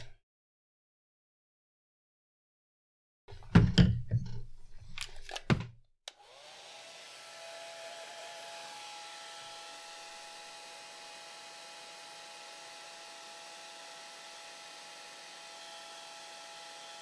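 A hair dryer blows over a watercolor painting of a baby fox, switching on after a few seconds of brief handling noises and then running as a steady, close, loud whir until the end.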